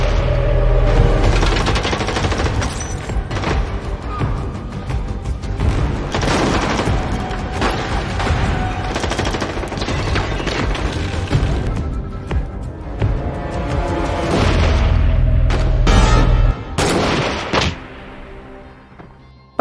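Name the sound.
gunfight in an action film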